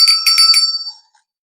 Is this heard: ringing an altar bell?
yes